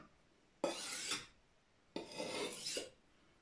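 Two separate strokes of a kitchen knife drawn across a quality sharpening stone, each a harsh rasping scrape lasting about half a second, close and distinct, with quiet pauses between them.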